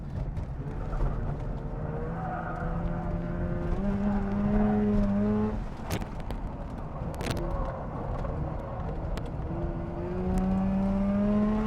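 A tuned Mazda RX-8 with its Renesis rotary engine screams up through the revs on a race track, pitch climbing in long sustained pulls with brief shift dips, loud and close throughout.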